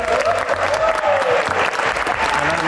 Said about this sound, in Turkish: Niye alkışladılar hiçbir fikrim yok.